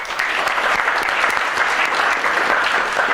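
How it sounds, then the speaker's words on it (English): Audience applause at a college lecture series award nomination, a steady dense wash of many hands clapping throughout, fairly close and continuous. "So a round of applause first for Josh"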